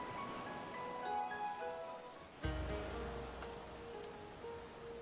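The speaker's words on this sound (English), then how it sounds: "It's good, we'll get out of the rain." Steady rain falls in Final Fantasy XIV, a soft continuous patter over gentle melodic game music, with a louder low thump partway through before the rain carries on.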